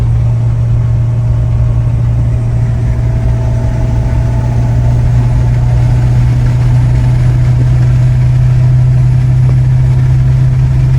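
A 2018 Ford F350 with compound turbos cruises at 60 mph on light throttle, giving a steady, loud low-pitched engine drone with a smooth, unchanging hum and road noise throughout, no talking.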